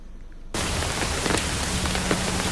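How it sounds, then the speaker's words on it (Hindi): Heavy rain falling in Himachal Pradesh, a sudden loud, dense hiss of downpour that cuts in after a quiet half second and continues steadily alone. "राजधानी में जमकर बारिश हो रही है"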